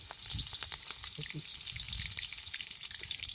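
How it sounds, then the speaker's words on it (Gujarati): Green chilies frying in hot oil for a soup, a steady close sizzle and crackle with scattered pops running the whole time. "તેલ ગરમ થઈ ગયું તો આપણે લીલી મરચી"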